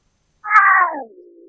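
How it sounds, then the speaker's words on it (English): A single domestic cat meow, close and clear, rising then falling into a softer drawn-out tail, with no other sounds around it. "cat,"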